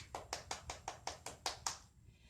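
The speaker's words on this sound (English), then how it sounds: "give it a clap from home" Hand clapping at a virtual storytime: eight evenly spaced, crisp claps in a quick steady rhythm, close and moderately loud, with no talking.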